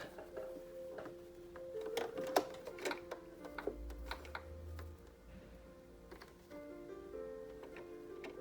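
Sewing machine stitching elastic into a fabric no-fog face mask, a light mechanical ticking and clicking patter with short bursts of running, close and fairly quiet, with a low hum partway through.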